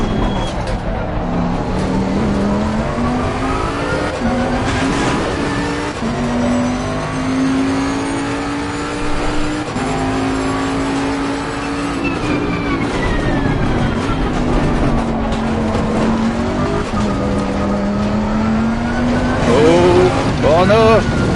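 A GT race car in Assetto Corsa Competizione at Zolder, engine droning and shifting pitch as it revs and eases through corners, steady and close, with someone talking over it throughout.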